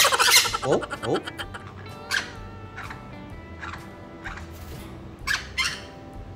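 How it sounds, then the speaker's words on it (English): Newly arrived pet baby birds give a series of short, bright chirps and squawks, some close and loud, others fainter, spread irregularly through a busy indoor setting, with a brief spoken exclamation near the start. "Their little chirps are so cute."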